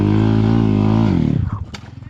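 An off-road motorcycle on a muddy Gunung Salak trail holds a loud, steady engine drone close up, then the revs drop and sputter into uneven chugging before fading.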